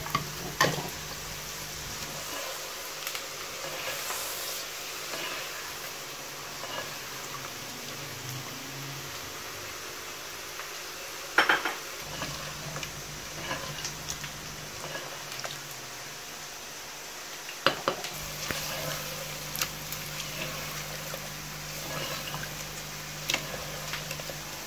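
Chicken frying in a handi pot, a soft continuous sizzle and crackle with a few louder clanks of stirring, close and fairly quiet, without talk.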